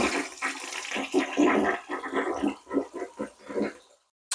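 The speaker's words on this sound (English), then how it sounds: "let's go ahead and flush it and see if it'll flush" A clogged toilet is flushed after sitting with water in the bowl, giving a loud, close gurgling rush of water that surges and sputters before draining to quiet.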